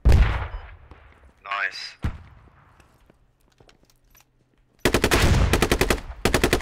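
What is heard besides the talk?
gunfire from a squad shooter video game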